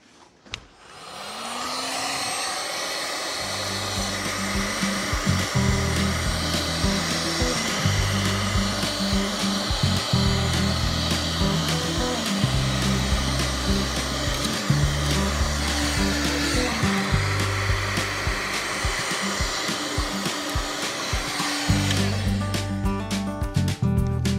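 A heat gun melts a hole through material held in a jig. Its loud, steady blowing roar starts abruptly, runs continuously with faint low thumping underneath, and then cuts off near the end.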